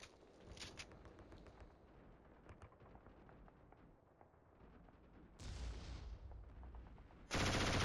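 A turret in the Killzone shooter fires, heard faintly at first as quick rattling shots over game ambience, then swelling into loud, sustained bursts near the end.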